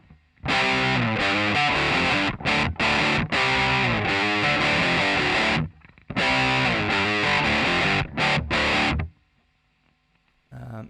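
Heavily distorted electric guitar plays a verse riff in two loud passes, chugging chords with staggered stops and short gaps between phrases, with no other sound.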